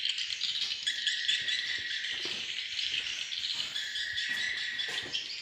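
A swiftlet lure call plays at a bird house, giving dense, continuous high chirping and twittering that stays loud and steady throughout, with no voices.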